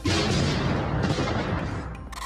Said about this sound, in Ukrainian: Бо це не звук вибухів, а звук пострілів, якийсь металевий, ніби з баку. Це той самий міномет у сміттєвозі.